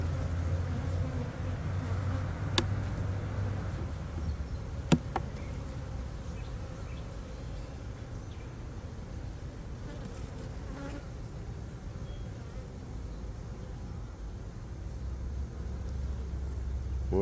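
Honey bees drone steadily from an opened beehive, a continuous close buzzing swarm sound with a couple of sharp faint clicks, and no talking.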